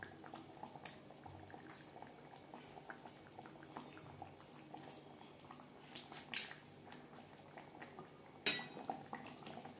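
Katla fish kalia gravy boils steadily in a pan, with a continuous close bubbling and simmering texture broken by two sharp metallic clinks near the end.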